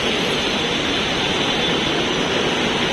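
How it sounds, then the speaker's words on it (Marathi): Heavy rain falls at Khar station in Mumbai as a dense, constant, loud roar of hiss with no breaks, close and enveloping, and no voices over it. "पाऊस जागा आहे जायचं नाव घेत नाही आहे"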